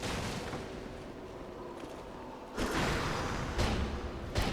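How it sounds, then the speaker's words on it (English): A barrel bursting in Dark Souls 2 beside a ladder in the Lost Bastille: a loud, close, roaring blast that rises suddenly after background rumble and is followed by a second burst. "Because the explosion will knock me over."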